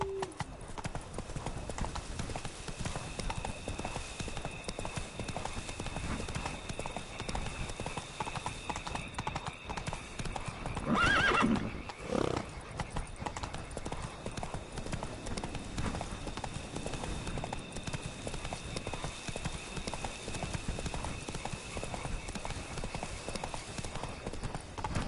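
Horse hooves galloping in The Witcher 3 on PS4 Pro, a steady clip-clop running the whole time with a short louder burst midway, maybe a whinny, over constant game ambience.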